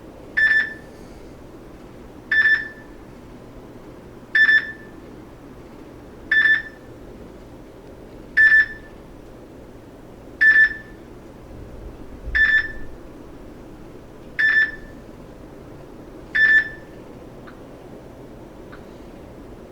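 A Samsung Galaxy J3 Orbit phone repeats its Beep Beep notification as nine crisp electronic beeps, each about two seconds apart, steady and moderately loud over quiet background hiss.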